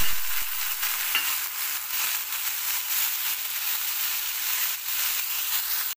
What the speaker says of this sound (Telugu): ఉల్లిపాయలు గోల్డెన్ బ్రౌన్ కలర్ వచ్చేదాకా వేయాలి.